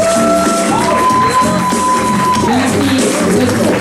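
A loud crowd cheers, shouts and whoops at a live comedy show, a dense continuous wall of audience noise throughout.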